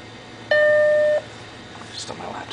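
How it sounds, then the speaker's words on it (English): A single sustained electronic startup chime from an Apple Macintosh Classic SE, played back on a laptop, rings clearly for under a second before fading into quiet room noise. "If you didn't hear the chime, here it is again."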